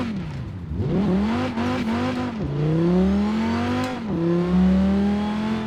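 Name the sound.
V8 car engine revving in video game Forza Horizon 4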